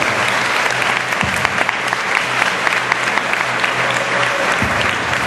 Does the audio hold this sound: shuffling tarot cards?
no